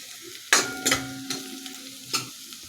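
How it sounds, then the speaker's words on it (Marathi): Sandgyachi bhaji ingredients, dried lentil dumplings, frying in a pan over low-medium gas until golden brown, with a steady soft sizzle broken by several sharp scraping stirs of a spoon, close and alone. "आता हे सर्व साहित्य आहे ते आपल्याला चांगलं गोल्डन ब्राऊन होईपर्यंत परतून घ्यायचं आहे लो टू मिडियम गॅसवरतीच परतायचं आहे"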